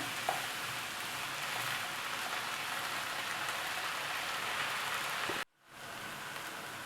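Minced fatty meat and onion frying in a little oil, a steady dense sizzle close by that runs without pause, briefly cut off near the end before resuming.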